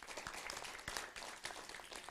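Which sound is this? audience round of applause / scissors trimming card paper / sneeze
audience round of applause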